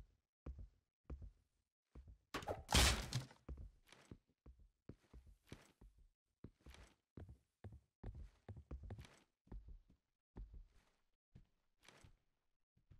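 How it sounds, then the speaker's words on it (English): Footsteps in a Roblox remake of Rainbow Six Siege, a steady run of soft, thudding steps, fairly close and evenly paced, with one brief louder scuffing burst early on and no speech. "Can't tell if it's my own footsteps I'm hearing or his."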